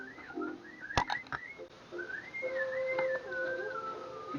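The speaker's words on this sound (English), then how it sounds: "If you don't stop whistling" Someone whistles a wavering, sliding tune, with a few sharp clicks early on and a steady faint hiss behind it.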